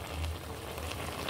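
A pot of ginataang galunggong, fish simmering in coconut milk, boils with soft, continuous bubbling and popping, a faint steady burble with no voices.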